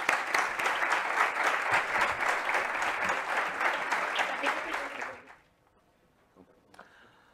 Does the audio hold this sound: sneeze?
no